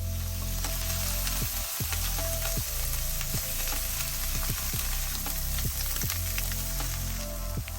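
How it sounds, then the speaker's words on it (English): Beef steak sears in a very hot pan for a creamy pasta dish: a loud, steady sizzle with scattered crackles and pops that runs without a break and has no voices over it. "Once the pan is super hot, we're gonna start to sear the meat."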